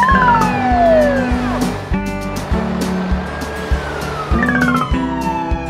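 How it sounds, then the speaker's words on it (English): German police car siren sounding loud and near, a falling two-tone horn that repeats over the rumble of passing traffic, with a lower engine drone between the tones. "Germany. Police car."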